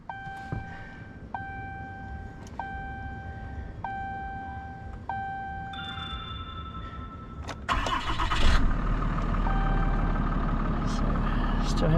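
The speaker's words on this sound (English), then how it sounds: "So now we're going to crank up the truck and see if our message goes away." A steady chime repeats a few times, then a Ram 2500 pickup's Cummins 6.7 diesel engine cranks, catches loudly and settles into a rough, continuous idle.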